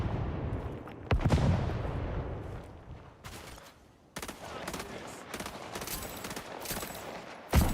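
Sniper rifle shots in the shooter game Highguard: a loud sharp report near the start, then a later stretch of dense, sustained gunfire and battle noise with a few more sharp cracks, played alone without talk.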